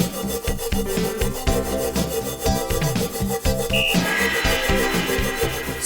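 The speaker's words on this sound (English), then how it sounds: "So we simply scrub away at the rust, give it a little elbow grease." A wire brush scrubs surface rust off a cast iron pan in quick, rhythmic rasping strokes, loud and close, with no talking.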